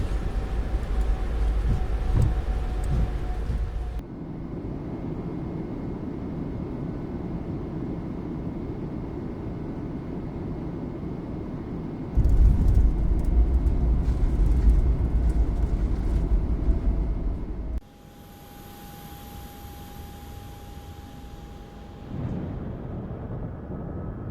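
A Boeing 737 MAX in Southwest livery rolls out and brakes after landing in Microsoft Flight Simulator 2024: a steady, loud airframe and engine roar that swells into a heavier rumble, then drops to a quieter whine as the aircraft slows.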